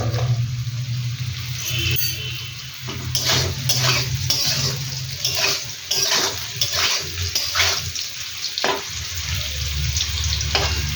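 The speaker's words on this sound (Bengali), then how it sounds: "আলু আর কচুটা ভাজা ভাজা করে নেওয়া হচ্ছে" Potato and taro pieces frying in oil with a little salt, a loud continuous sizzle close by, broken by repeated stirring scrapes and clinks of a utensil against the pot.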